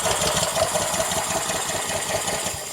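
Ryobi GCV190 small pressure washer engine running with the choke on, a steady rough chugging drone that is loud and close throughout.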